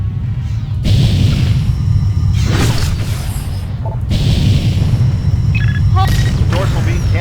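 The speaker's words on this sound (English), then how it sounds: "The dorsal beam cannon has been destroyed." A dorsal beam cannon blowing up in the space combat game Freespace, heavy booming blasts over a constant loud engine rumble, with radio chatter and beeping cockpit tones around it.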